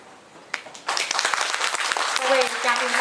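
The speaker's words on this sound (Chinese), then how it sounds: "我们掌声欢迎我们会长" An audience at a naturopathy society anniversary gathering breaks into applause welcoming the association president, clapping swelling quickly and continuing steadily while a voice speaks over it.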